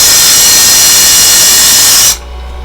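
A Harbor Freight circular saw blade sharpener runs with a loud, steady, high grinding whine that stops abruptly after about two seconds, leaving a low hum.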